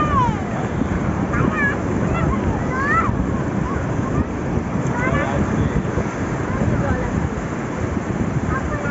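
Sea waves rolling onto the beach at Digha, a constant loud wash of surf under strong wind buffeting the microphone, with people's voices faintly mixed in.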